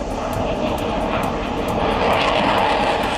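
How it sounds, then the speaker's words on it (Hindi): Fighter jets landing and taking off during a military mock drill, a steady loud roar of aircraft engines that holds unbroken throughout, with no talk. "एक एक करके फाइटर जेट लैंडिंग और टेक ऑफ करते नजर आए"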